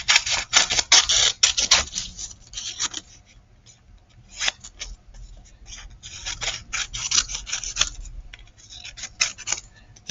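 Scissors snipping through paper to cut out a shark pop-up card, a close run of crisp rasping cuts in quick bursts with short pauses between strokes, no talk over it.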